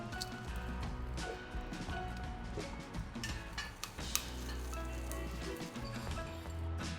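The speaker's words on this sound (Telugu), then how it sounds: "ఆవాలు చిట్పట్లాడుతున్నాయి కదా" Mustard and cumin seeds splutter in hot oil for a banana stem chutney tempering, a steady dense crackle and fizz of small pops running the whole time, close and fairly loud, with no talking.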